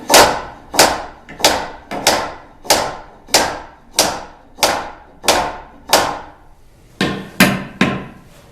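A hammer pounds a wooden woodworking joint tighter, striking about a dozen sharp, evenly spaced blows close up, with a short pause before a final quick pair of hits.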